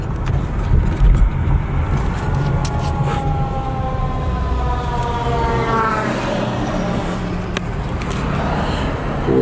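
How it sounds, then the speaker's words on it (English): Ambulance and fire engine sirens wail and rise as the emergency vehicles approach on an Inglewood street near a freeway exit, loud over steady traffic rumble. "Look, ambulance is coming, fire department's coming"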